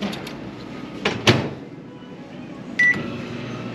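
A microwave oven reheating beef fried rice and tom yum beef fried rice: a couple of soft clicks, then two sharp door thuds, a steady low hum, and a single clear electronic beep near the end.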